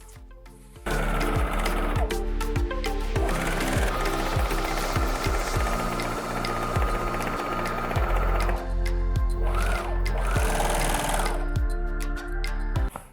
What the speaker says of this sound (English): Sew the seam F with the overlocker.